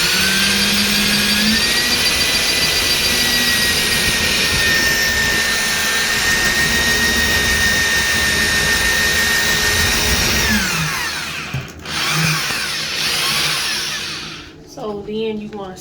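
A saw blade cuts into a shower wall to open a hole for a shower frame bracket on a Royal shower homes sf36x36 unit. A loud, steady whining grind runs without a break for about ten seconds, then winds down and stops.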